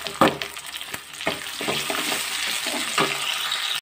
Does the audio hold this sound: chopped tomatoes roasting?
yes